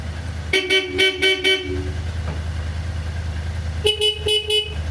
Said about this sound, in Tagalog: yung busina, gumagana yung stock horn, saka Bosch Europa pa busina